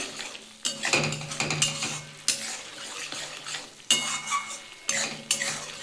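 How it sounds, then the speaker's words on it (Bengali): Banana stem (thor) frying and being stirred in a pan, with repeated scraping strokes of a utensil against the pan over a soft continuous sizzle, close and moderately loud, no voices. "এটা ভাজতে অনেকটা সময় লাগে"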